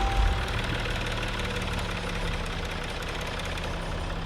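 A Land Rover Discovery 5 diesel engine idles just after an oil change, a steady low rumble with faint rapid ticking, close and constant throughout with no talking.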